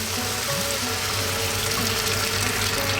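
Cold water runs steadily into a pot over seared chunks of beef for a potato curry, a continuous close splashing and gurgling pour with no talk over it.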